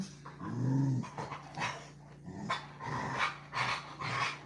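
A dog in a home art room growls low and briefly, then gives a run of soft, quick panting breaths. The sound is fairly quiet and close.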